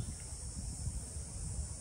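A dense, steady cicada chorus buzzes continuously at high pitch, filling the background with an unbroken drone.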